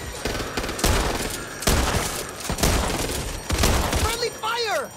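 Repeated bursts of close, loud gunfire fill a Back 4 Blood co-op match, with rapid automatic volleys separated by short gaps and a brief warbling effect at the end.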